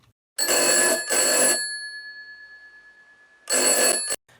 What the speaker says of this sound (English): Now a 20 millisecond delay